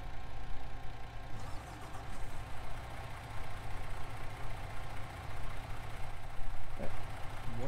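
Farm vehicle engine idling in the game Farming Simulator 19, a steady low, throbbing hum with a faint knock running throughout, with no talk over it.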